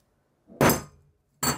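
A thin tempered-glass iPhone screen protector cracks under a strike: a sharp broadband impact with a short ringing tail, then a second hit about a second later, close and clear with no talk.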